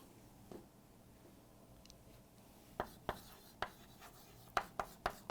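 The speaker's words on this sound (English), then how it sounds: "I'll write this here." Marker or chalk strokes on a board, faint scratching at first, then a run of about eight sharp taps and strokes, close and quiet, with no talk.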